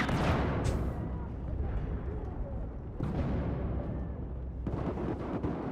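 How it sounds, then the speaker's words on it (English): Grenade explosions in Battlefield 4 gameplay, with sharp booming bursts at the start, around the three-second mark and near the end over continuous roaring battle noise. "Throwing grenade."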